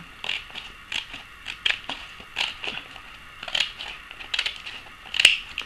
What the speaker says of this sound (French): Vous allez découper que la partie basse du filtre.